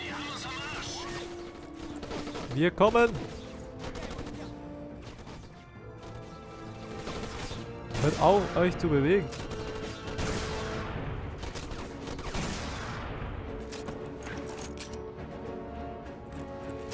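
Gunfire in the shooter video game Black, with bursts of shots and crashing impacts in two loud clusters amid ongoing game noise, while a German voice speaks over parts of it.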